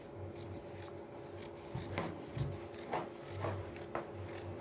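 Scissors cut through two layers of jacket fabric at once, a series of quiet, close crunching snips in an irregular rhythm, about five cuts in under five seconds.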